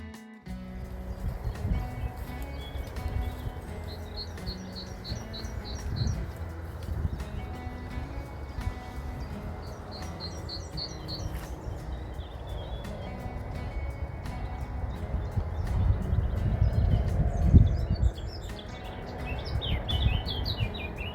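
Small birds chirp and trill in short repeated phrases in the open air of a quiet French countryside village, mid-distance, over a steady low rumble of background noise, with no talking.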